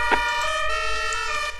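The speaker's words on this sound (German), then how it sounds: "Martinshorn an, bitte." Siren of an emergency vehicle in a firefighting video game, a steady electronic two-tone wail, loud and close.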